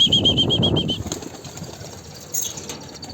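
Birds flutter and flap their wings in a flurry of soft beats as they leave an opened cage, with a high chirping tone early on and faint rustling throughout.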